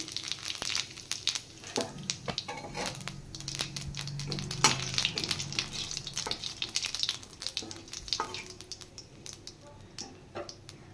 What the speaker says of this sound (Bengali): মাছ ভাজা হয়ে গেছে, এবার আমি তেলে দিয়ে দিচ্ছি সাদা জিরে।